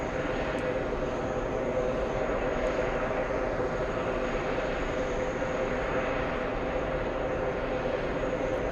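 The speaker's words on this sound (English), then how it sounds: "Royal Jordanian flying in from Amman, a 787-8 Dreamliner, 11-hour flight for it, landing in about 35 seconds" Royal Jordanian Boeing 787-8 Dreamliner on approach to landing at JFK Airport, a steady, continuous jet engine roar heard from a distance, with no other sounds standing out.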